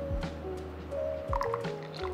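Water pours from a Cuppa Kettle CWK-100 gooseneck kettle held low over a coffee bed, a soft continuous trickle with small wet splashes and light clinks close by.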